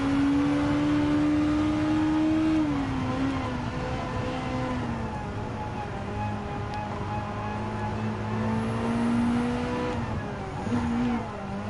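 Race car engines roar in the Gran Turismo 7 racing game as a Porsche 911 GT3 RS type 992 is chased: a steady, loud engine drone that shifts pitch through gear changes and throttle, with no voices.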